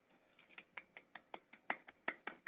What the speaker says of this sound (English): Love those triple claps.